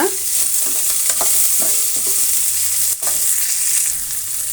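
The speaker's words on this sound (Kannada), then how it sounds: "ಹುರುಳಿಕಾಯಿ ಸಣ್ಣದಾಗಿ ಕಟ್ ಮಾಡಿರೋದನ್ನು ಹಾಕೋಣ" Finely chopped green beans hitting hot oil in a frying pan while making rice bath: a loud, steady sizzle with stirring scrapes and clinks close to the pan, no talking.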